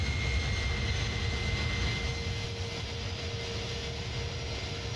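Airbus A310-300 jet engines in flight in a flight simulator game, a steady broadband roar with a thin tonal whine, loud and continuous with no talk.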